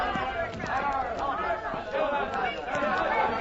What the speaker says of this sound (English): What is that mob? Why do they taunt the woman?